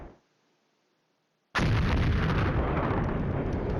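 Artillery fire in the wargame Flashpoint Campaigns: Red Storm, in a dense urban area: after a second and a half of near silence, a loud, sustained barrage of booming blasts and rumble starts suddenly and carries on steadily to the end.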